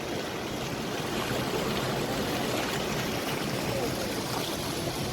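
Hot sulfur spring water pouring from a pipe at a mountain spring, a steady, close rushing splash with no break and no voices.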